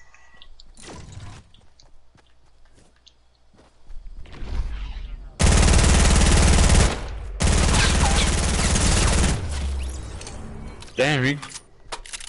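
Two loud, sustained bursts of rapid submachine gun fire in the Fortnite video game, close and dense, separated by a short gap, with quieter game sounds and a talking voice around them.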